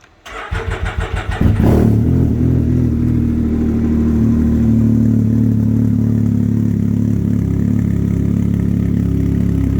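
A tuned 2022 Can-Am Ryker Rally cranks over in a quick series of pulses, catches and roars to life, then settles into a loud, deep, steady idle close by.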